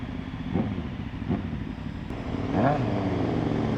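A KTM Super Duke motorcycle engine rumbles while riding, with a few short throttle blips rising and falling over steady wind buffeting on the microphone.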